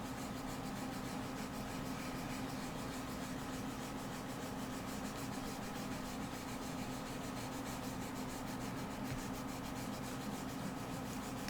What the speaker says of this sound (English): I'm going to brush it off and just rub it gently in a circle